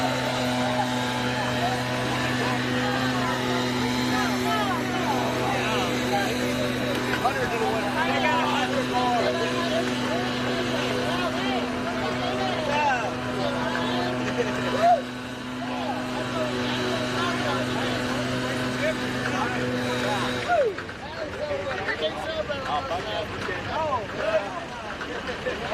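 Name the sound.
drag race car engine with loud supercharger blower at full throttle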